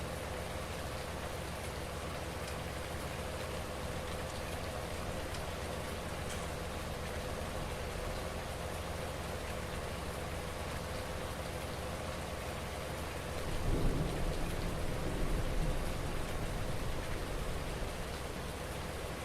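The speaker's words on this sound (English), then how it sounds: "Quite enjoy the sound of the rain, I have to say." Rain falls steadily on a farm, a soft, even hiss that swells a little louder for a few seconds near the end. No voices.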